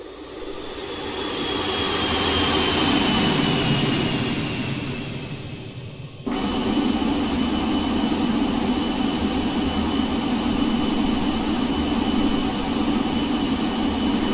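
Avro RJ100 jet engines roar steadily in an X-Plane 11 flyby over Los Angeles at about 15,500 feet, swelling and fading as the airliner passes, then cutting to an even, continuous engine drone.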